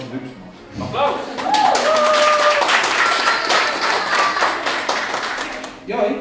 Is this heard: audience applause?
yes